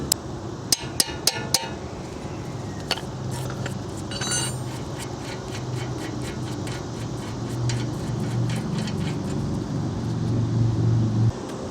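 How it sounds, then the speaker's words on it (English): A hammer taps a wrench on a 14mm brake caliper bolt of an Acura TL during a front brake pad job: a quick cluster of sharp metallic clinks near the start, then scattered lighter taps over low background hum. "get yourself a hammer and just tap."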